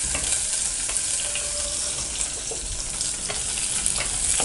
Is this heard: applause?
no